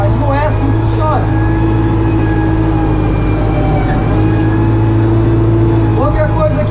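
Diesel tractor with a front blade pushing and tearing out brush, the engine droning loud and steady throughout with a voice speaking over it.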